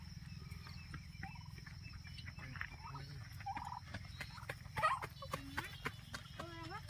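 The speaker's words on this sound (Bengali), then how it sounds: "একটা কড়কনাথ মুরগি রয়েছে" Kadaknath chickens roaming a park at Mukutmanipur give scattered clucking and fowl calls over a steady low hum, with brief louder bursts near the end and faint voices in the background.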